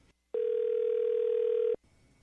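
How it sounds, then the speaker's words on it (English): Telephone ringing on a radio show: a single steady electronic tone lasting about a second and a half, loud and alone against near silence. "The phone's ringing."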